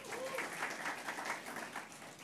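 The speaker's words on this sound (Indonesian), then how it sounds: "Kasih tepuk tangan." Steady applause from a church congregation at a Sunday service fills the whole short stretch, an even crowd-wide clapping at moderate level with no break.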